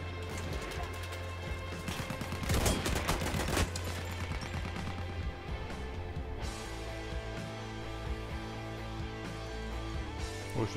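Battlefield 1 gunfire on the Nivelle Nights map: a burst of rapid shots cracks out mid-clip, with scattered distant shots over a steady low in-game drone and hum.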